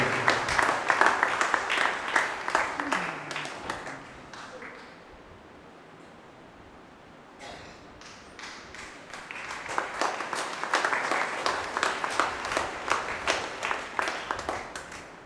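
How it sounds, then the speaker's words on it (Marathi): A church congregation claps for a departing priest at a parish farewell. Dense, loud applause eases to a low murmur midway, then swells again into sustained clapping. "जोरदार टाळ्या येऊ द्या, सतत चालू राहू द्या."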